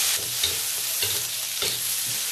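Pork slices stir-fried in a wok over low heat with ginger, garlic, garlic stalks and red and yellow peppers, giving a loud close sizzle with rhythmic scraping tosses of a spatula. No voices.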